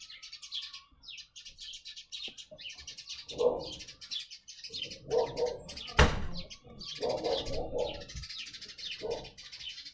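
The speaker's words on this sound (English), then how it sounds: "sometimes the birds, they're fighting. You hear them?" Sparrows chirping and squabbling, rapid bursts of high tweets repeating through the clip alongside lower cooing calls and a sharp sudden snap, fairly close and lively.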